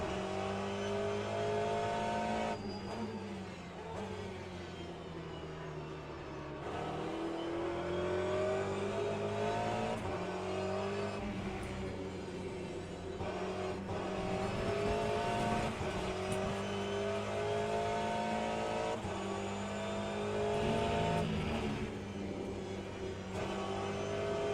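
Porsche race car engine in Le Mans Ultimate, a racing video game, whining and droning continuously as it shifts and rises through the revs, loud and close throughout with no talk.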